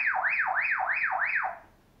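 A Baofeng UV-5R walkie-talkie sounding its alarm: a loud, close electronic siren sweeping up and down in five quick repeating whoops, then cutting off and leaving near silence.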